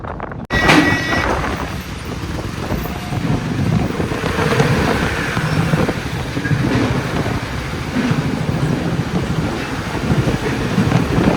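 A truck rumbles across a bridge in the Spiti valley during a strong storm, a loud low roar under heavy gusting wind noise that stays steady throughout after an abrupt bump at the start.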